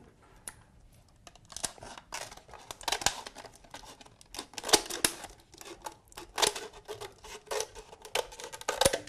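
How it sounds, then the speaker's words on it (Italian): Scissors snipping through a plastic bottle to cut off its neck after a starter slit, a run of crisp, irregular crinkling cuts close up, no talk. "Per tagliare i colli con il cutter facciamo un taglio nella bottiglia e poi con le forbici"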